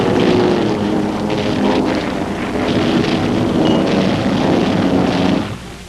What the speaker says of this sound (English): Iwo Jima-based fighters escort the heavy planes with an Army Air Force camera along